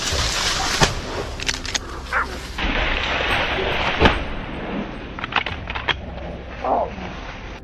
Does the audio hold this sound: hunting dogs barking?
yes